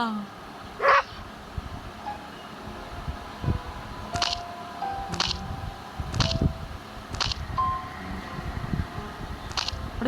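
A dog barks in short, sharp bursts spaced roughly a second apart in the video game Endless Nightmare, over a low steady hum with occasional other noises.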